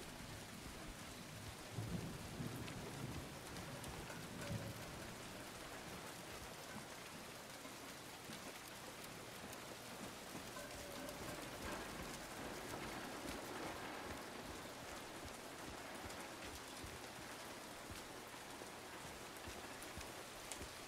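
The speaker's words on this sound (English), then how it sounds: "Is that the rain that's making my remote, like, thump?" Steady rain falls throughout a stretch of the Silent Hill 2 Remake video game, a constant hiss of drops with a low rumble like distant thunder underneath, quiet and unbroken for about twenty seconds with no voices.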